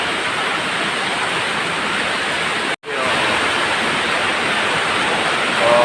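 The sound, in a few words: rushing rain floodwater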